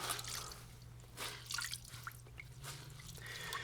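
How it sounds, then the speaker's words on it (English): Water dripping and splashing from a wrung-out shirt while doing laundry by hand, faint scattered drips and small trickles over a low steady hum. "Let's wring out the water"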